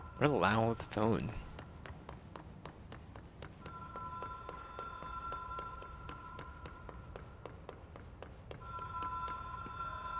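A loud telephone rings in the video game Control, its bright repeated rings carrying on for several seconds after a brief burst of voice and footstep-like sounds.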